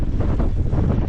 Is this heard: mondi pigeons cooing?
no